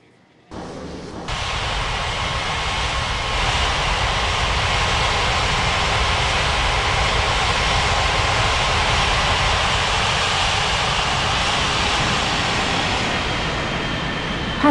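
An airliner's engines roar steadily on landing approach in an air traffic control simulation game, a loud, sustained, even drone that starts suddenly and holds for the whole stretch with no voices.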